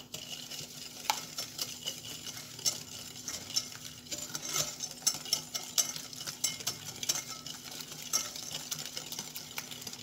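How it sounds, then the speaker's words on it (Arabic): Eggs and three spoons of sugar being whisked by hand in a bowl for brioche dough, a steady rapid scraping and clinking that runs the whole time, close and moderately loud with no talk. "هنايا وضعت البيضه ديالي، نزيد عليها 3 المعالق ديال السكر، غنحاول نخدمهم شويه"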